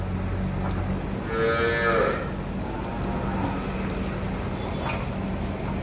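A Gir cow at a cow shelter, suffering from a prolapse, lets out a single loud moo that swells and fades over a steady low background hum.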